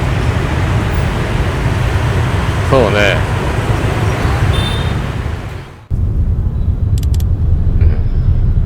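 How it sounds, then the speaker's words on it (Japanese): Heavy road traffic in Ho Chi Minh City makes a dense, continuous roar of engines, with voices talking close by; the noise drops abruptly partway through before resuming more quietly. "見てよこの交通量。"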